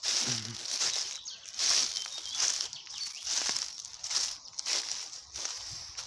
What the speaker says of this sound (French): désolé pour le bruit des feuilles.